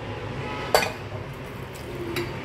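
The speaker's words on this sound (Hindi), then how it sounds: "अब मैं इसको डालूँगी कुकर में" A sharp metallic clink of a pressure cooker as chopped mustard greens go in, followed by faint rustling and soft clatter against a steady background hum.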